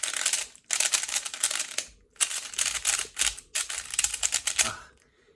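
A speedcube is turned rapidly through J perm and U perm algorithms, giving dense bursts of clicky plastic clacking separated by short pauses, close and loud, with a scratchy feel from the poor corner cutting.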